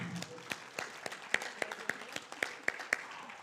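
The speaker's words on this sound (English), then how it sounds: "So we can applaud." Scattered applause from a small audience in a hall, fairly faint, with sparse distinct claps over a soft wash of clapping and a few murmurs for about three seconds.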